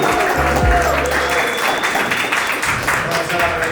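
Applause rolls through a comedy-show crowd at a live event in a market venue, steady and dense across the whole stretch, with a low hum near the start and voices mixed faintly into the clapping.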